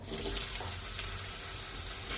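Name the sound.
potatoes added to hot oil sizzling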